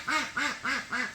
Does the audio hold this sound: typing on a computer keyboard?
no